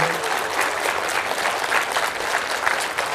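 An audience at a lecture breaks into steady, full applause, a dense continuous patter of many hands clapping at moderate distance without pause.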